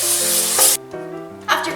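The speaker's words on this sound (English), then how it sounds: "you're going to need to spray it with cooking oil spray so it doesn't stick" Cooking oil spray misted into a baking pan for banana bread gives two short, close hissing bursts, one at the start and one at the end, with steady tones and a voice running underneath.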